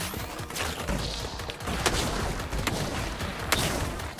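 Mortar fire in the video game Dracomaton: a continuous barrage of dense, rumbling booms and sharp cracks, with several louder blasts standing out amid steady battle noise.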